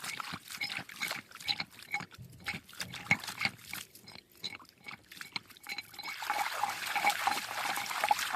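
Water trickling and running from a household tap after being turned on, a steady splashing flow that grows fuller and louder toward the end, with some faint clatter.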